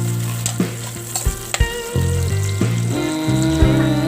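Onion and garlic hit hot oil for a balbacua, crackling and sizzling close by, with intermittent stirring clanks and scrapes and a faint tonal hum in the background.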